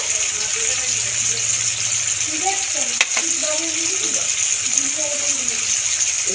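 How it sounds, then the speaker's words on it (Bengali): Tomato frying in a pan as ground spices are added one by one for a Bengali turnip ghanta, a loud, steady sizzle with stirring scrapes throughout while someone talks over it. "টমেটোটা ভাজতে ভাজতে টমেটোর মধ্যে এক এক করে আমি সব মশলা দিয়ে দেবো।"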